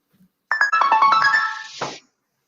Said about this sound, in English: a Nokia ringtone rips through and interrupts everything